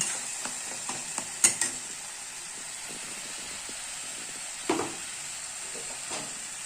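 Tomatoes cook in a masala with a steady, soft sizzle under a hiss, broken by a few scattered scraping clicks of a spoon stirring the pan, with no talk.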